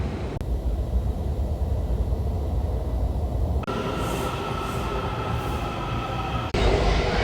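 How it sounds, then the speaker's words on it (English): Steady rumbling rattle of a Washington DC metro train in motion, heard from aboard, with a low roar throughout and a brief shift in tone as the carriage rolls on. "Just got aboard the metro"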